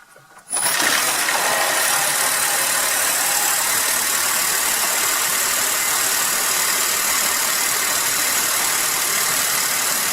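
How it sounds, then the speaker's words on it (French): A hybrid car engine starts up and settles into a steady, loud idle with a hissing, broadband hum that holds constant for the rest of the clip. "Le moteur est démarré"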